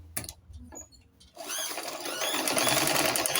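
After a couple of brief clicks and a pause, a sewing machine stitching a lined skirt starts up and hums rapidly and steadily at close range, fairly quiet.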